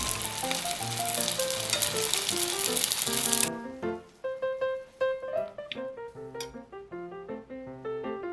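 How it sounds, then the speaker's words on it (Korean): Cabbage patties frying in a lightly oiled pan, a dense bright sizzle for about three seconds that cuts off abruptly, followed by quiet music. "오일 살짝 두른 팬에 구워 먹어도 물론 맛있고요"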